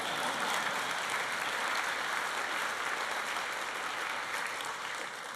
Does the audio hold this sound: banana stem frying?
no